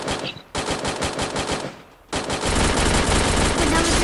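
AK47 assault rifle fire in an online shooter game, loud sustained automatic bursts with a brief pause before a second long stream of rapid shots.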